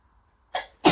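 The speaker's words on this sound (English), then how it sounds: "Good cough!" A child gives two short, sharp coughs close up, the second louder than the first, in a quiet room.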